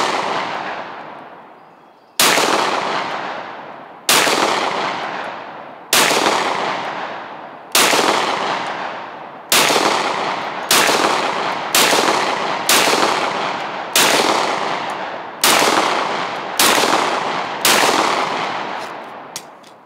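Pistol shots from a North Forest Arms handgun fitted with peep sights, about eleven sharp, loud reports spaced roughly one to two seconds apart, each with a decaying echo, and no talking between them.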